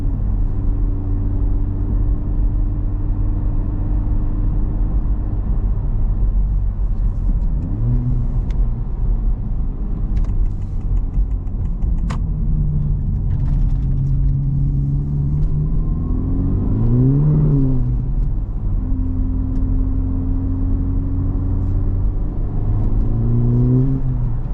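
A Honda Civic Type R FL5 on a night drive hums steadily from inside the cabin, its turbocharged engine rising and falling through several revving pulls with audible shifts, loud and continuous without voices.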